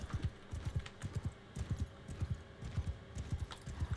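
Horse hooves clip-clop at a quick, steady trot or gallop in the medieval battle game Mount & Blade 2 Bannerlord, a soft, fairly distant rhythmic patter that stays even throughout.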